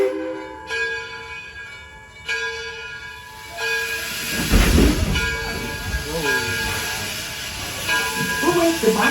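Chime whistle of a train on the Edison train ride, sustained tonal blasts over rumbling, hissing railcar noise, with people talking in the background.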